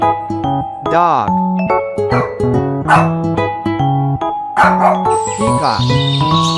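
A dog barks and yips in quick repeated bursts, close and loud, with whiny, pitched barks running steadily throughout.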